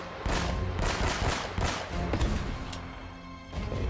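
Pistol shots ring out in a firefight in the video game Uncharted: Drake's Fortune, with a rapid run of loud sharp cracks packed over dense battle noise that carries through the whole stretch.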